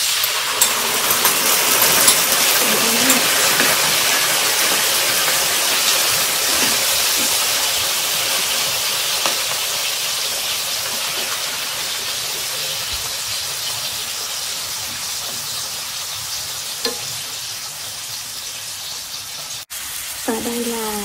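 Tofu simmering over medium heat in a soy sauce seasoning mixture, giving a steady, close, broadband sizzle and hiss that runs unbroken for the whole stretch.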